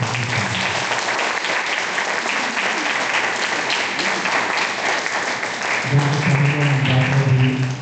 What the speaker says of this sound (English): let's give a big round of applause to the three masters